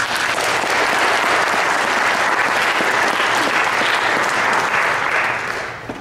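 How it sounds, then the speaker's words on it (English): A full audience round of applause at a talk by an attorney on the history of spying on activists in Philadelphia, dense and steady throughout, then tapering off at the end. "Let's give Paul a big round of applause"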